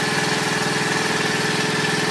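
A close motorbike engine revs steadily with a fast, throbbing pulse, loud and constant, no talk over it.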